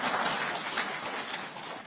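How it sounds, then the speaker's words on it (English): A press briefing audience claps briefly, a short dense patter of hands heard from across the room at moderate level. "I thought you would clap."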